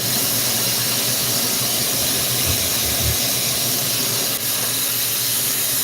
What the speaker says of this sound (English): I'm going to get this in the flame